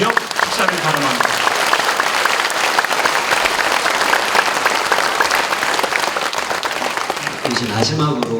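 Church congregation applauding loudly at a dedication and thanksgiving service, a sustained, dense roar of clapping with a few voices mixed in near the end.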